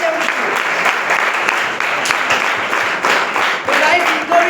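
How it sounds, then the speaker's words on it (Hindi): An audience at a company event gives its leaders a loud, close round of applause, continuous dense clapping with faint voices mixed in. "इनके लिए एक बार जोरदार तालियां।"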